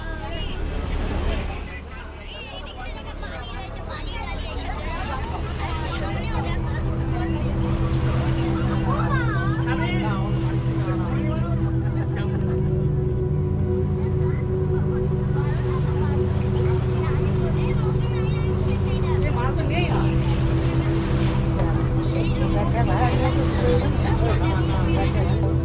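A motor launch rocks on choppy water on the way to Jambudwip off Bakkhali, its engine a steady low drone that runs loud and constant throughout, with a babble of passengers' voices and children's chatter beneath it.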